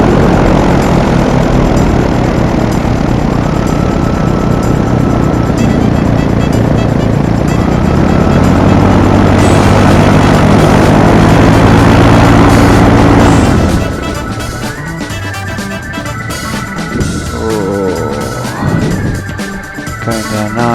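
Paramotor engine droning loudly in flight during an approach to land at Wicksteed Park, a steady propeller roar that drops to a lower, rougher throttle setting partway through.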